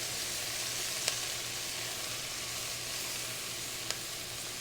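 Vegetables, including potato, sauté in oil in a pan with a steady, even sizzle and a couple of faint utensil clicks, with no voices over it.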